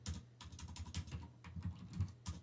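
Rapid keystrokes clatter on a computer keyboard close by, an uneven run of quick clicks and taps with short pauses, heard alone without talk.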